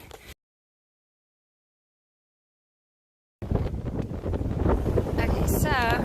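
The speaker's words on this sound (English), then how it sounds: "It's really windy. I don't know if you can hear the wind." Wind gusts buffet the microphone on a mountain stretch of the Appalachian Trail in Georgia, cut by a long stretch of silence and then returning as a loud, steady roar with a faint voice mixed in.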